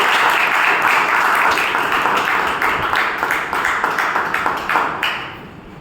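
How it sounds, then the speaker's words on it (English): A Toastmasters club audience at its 374th meeting claps in a broad, steady round of applause that fills the room, tapering off near the end. "A huge round of applause for Toastmaster."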